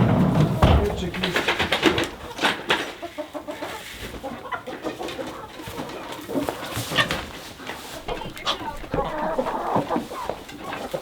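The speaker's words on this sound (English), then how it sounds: "You naughty chickens." Farm chickens cluck and squawk in a barnyard alongside cows, busy scattered calls under frequent conversation and movement noise close by.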